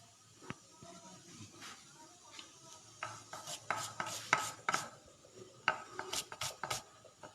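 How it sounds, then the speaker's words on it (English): Knife chopping a Nasik onion on a cutting board in a home kitchen, sharp close taps that start sparse and build into quicker irregular runs, with a faint background hum. "So I'm going to cut onion."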